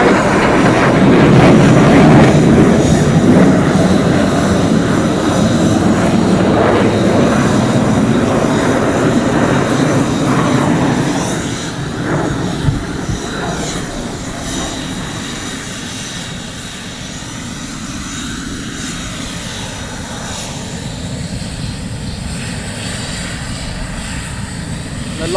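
A military jet lands at RAF Lakenheath during surge operations, a loud, broad engine roar that fills the whole clip and slowly eases and thins as the aircraft passes, with no speech.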